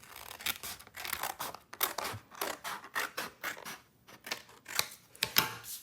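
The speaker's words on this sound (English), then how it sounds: "we're gonna fold it in half, just like so, and then we're going to cut it" Scissors snip through a folded paper circle in a series of close, crisp cuts, rhythmic scratchy bursts with brief gaps, no talking.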